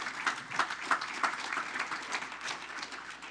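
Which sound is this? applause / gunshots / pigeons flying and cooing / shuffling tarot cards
applause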